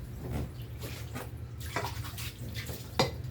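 Dishes being washed at a kitchen sink, with steady running tap water, clinks of plates and small splashes over a low background hum.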